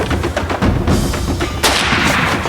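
Rifle fire while hunting buffalo in the African bush, a loud close crack followed by a rumbling reverberating tail and a second sharp report.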